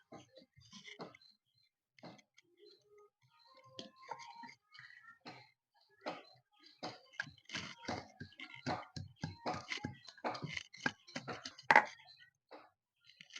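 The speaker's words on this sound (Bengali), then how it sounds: "আমি মশলা বাটতে শুরু করব। এখানে আমি শিলনোড়া নিয়ে নিয়েছি" Spices being ground by hand on a stone shil-nora slab with a stone pestle, a rhythmic series of close, sharp scraping and knocking strokes that grow denser and louder over time.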